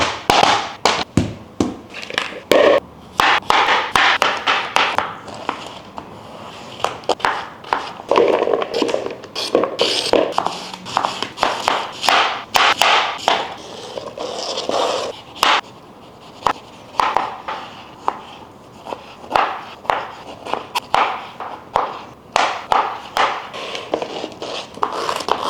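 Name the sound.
slicing fruit and vegetables for green juice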